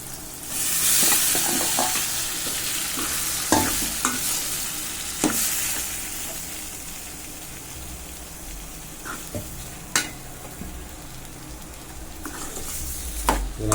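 Chow chow pieces stirred into an onion-tomato masala in a pan, a steady sizzle under repeated scraping strokes of a spoon, with a few sharper clinks against the metal; close and continuous, no talking.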